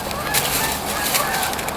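Large flock of geese honking in winter, a dense, continuous clamor of overlapping calls, loud and near, with occasional wingbeats mixed in.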